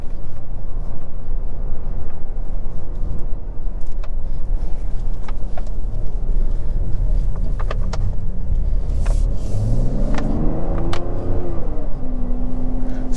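A 2024 Mazda CX-90 Turbo inline-six pulling steadily under acceleration, a smooth continuous engine drone with road noise inside the cabin, its pitch rising clearly near the end as the revs climb.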